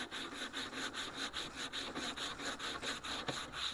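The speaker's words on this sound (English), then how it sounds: "We're going to start sanding this thing." Steady rhythmic rasp of sandpaper worked back and forth along a wooden walking stick, stripping the outer layer, with regular close strokes throughout and no voices.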